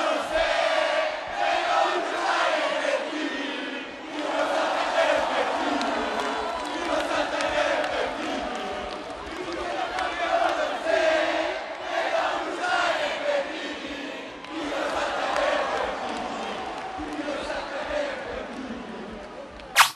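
A school crowd in a sports hall at a Telethon charity event cheers and chants for their team, a loud sustained roar of many young voices with rhythmic surges of shouting throughout.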